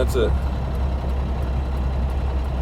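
A Kenworth truck engine at hot idle rumbles with a steady, loud low throb that runs unchanged throughout, with a voice heard briefly at the start.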